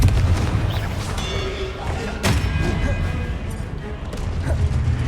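The Confringo fire spell from Hogwarts Legacy goes off as a booming blast, with one sharp explosive hit in the middle and softer thumps around it, all under game music and effects.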